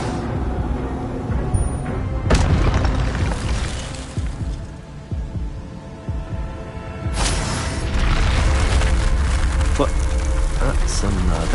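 Fire spell explosions cast in the video game Hogwarts Legacy, with two sharp whooshing bursts landing several seconds apart over a dense, continuous bed of game sound and music, and a voice speaking throughout.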